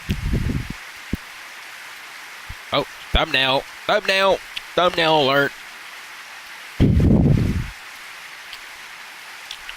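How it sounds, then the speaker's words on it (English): An evening rain shower in the Edelweiss video game, picking up force, gives a steady soft hiss beneath a voice, with a couple of louder low bursts. "Then the rain picked up force in no time."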